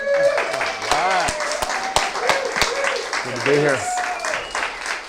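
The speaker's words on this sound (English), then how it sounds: "Everybody make sure we're cheering real loud" An audience at a total transformation reveal claps and cheers in scattered bursts, with sharp individual claps under someone talking close up.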